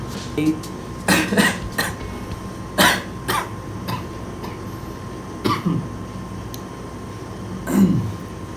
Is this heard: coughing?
yes